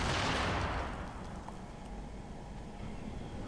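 A grenade blast in Fortnite gameplay: a loud, broad boom at the start that quickly settles into a sustained rumbling wash of noise, with no talk over it.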